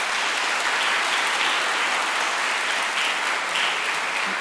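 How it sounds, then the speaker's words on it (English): Sustained applause from a choir concert audience fills a school auditorium, a steady dense clatter of many hands clapping at even loudness throughout, with no voices rising above it. "Would you give them a warm round of applause and thanks?"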